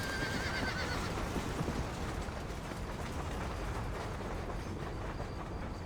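Horse neighing and galloping in the Red Dead Redemption video game, a whinny near the start over a steady, dense bed of hoofbeats and rumbling movement that continues evenly throughout, with no talk.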